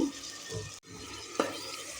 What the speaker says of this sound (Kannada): ಇವಾಗೆಲ್ಲ ನೀಟಾಗಿ ಮಿಕ್ಸ್ ಮಾಡ್ಕೊತಾ ಇದ್ದೀನಿ